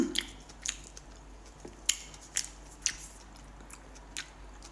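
Dried tamarind (sampalok) being chewed up close: a string of sharp, sticky bites and crunches at irregular intervals over a quiet background, with faint squishing between them.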